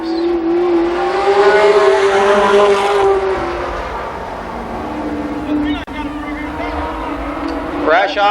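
Stock cars roar away at the start of a race at Columbus Motor Speedway in 1993, engines loud and revving continuously under an announcer's commentary.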